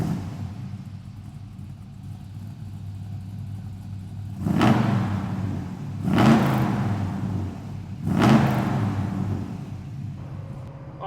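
A 1962 Chevrolet C10 restomod truck with an LS motor drives off, a low idling rumble followed by three distinct surges of acceleration as the engine revs and shifts, close and fairly loud, with no speech.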